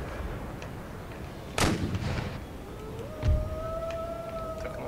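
Artillery cannon fire in Empire: Total War (DarthMod), two sharp booms about two seconds apart over steady battle ambience, followed by a rising whistling tone.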